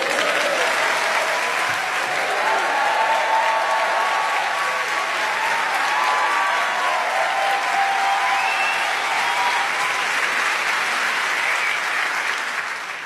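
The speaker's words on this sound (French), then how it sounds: "C'est la première fois qu'on m'applaudit autant parce que j'ai fait 3 mètres" Sustained, dense audience applause fills a comedy show venue at a steady level from start to finish, with no voices rising above it.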